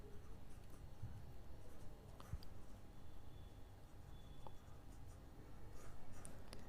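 Pen writing by hand on paper while working trigonometry problems, a faint steady scratching with brief strokes and taps over a low background hum.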